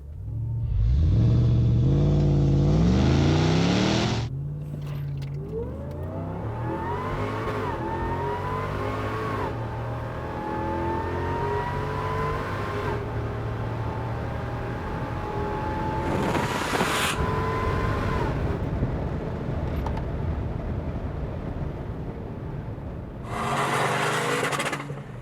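A supercharged Nissan Patrol engine roars in a loud opening rev, then settles into a sustained droning climb with rising whine and a few sharper surges, ending with another strong burst.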